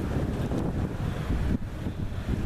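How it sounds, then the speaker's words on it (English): Steady wind gusts buffet the microphone at an old riverside ferry site, a continuous rushing roar with brief surges and no other clear sounds. "Nice windy day here."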